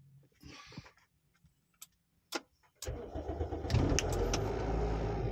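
A car with a smart start system gives a few quiet clicks and beeps. Its engine then cranks and fires up, settling into a loud, steady idle that runs to the end.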